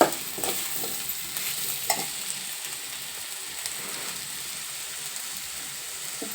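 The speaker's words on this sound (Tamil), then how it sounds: "மஞ்சத்தூள் சேர்த்து நல்லா வதக்கிட்டு" Mushrooms sautéing with turmeric and salt in a pan make a steady, soft sizzle with a few brief stirring scrapes near the start, alone with no voices.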